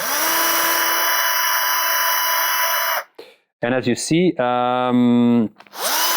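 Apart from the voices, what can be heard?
drilling through a hollow model part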